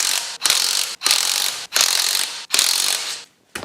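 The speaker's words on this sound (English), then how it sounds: "And I'm going to be using an impact gun." An impact gun driving a 17mm socket to remove lug nuts on an Audi Q3 wheel, four loud buzzing bursts of close, rattling hammering separated by brief pauses, with no voices.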